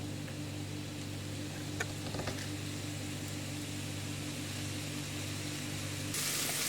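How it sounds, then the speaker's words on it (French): Small onions frying in melted margarine give a steady, soft sizzle, faint and even throughout, with a brief brighter hiss near the end. "Une fois que la margarine est fondue, on vient y mettre nos oignons. Et on va laisser dorer comme ça les petits oignons."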